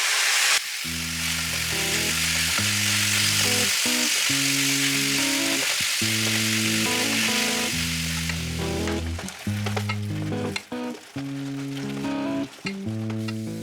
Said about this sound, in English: To a hot skillet, I added a little more than a pound of ground beef